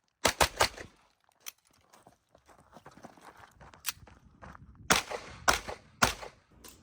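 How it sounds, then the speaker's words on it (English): A Staccato XC pistol fires rapidly: sharp, loud cracks come in quick clusters, separated by quieter gaps with faint shuffling. "The Staccato XC is just a really freaking flat gun, likes to shoot fast."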